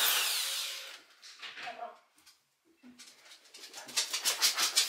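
A power drill on standard drilling mode, not hammer, whirs loudly at first, fades out through a quiet pause with faint voices, then returns in pulsing, uneven bursts that grow stronger.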